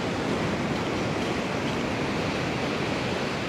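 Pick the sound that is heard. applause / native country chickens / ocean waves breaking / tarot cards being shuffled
ocean waves breaking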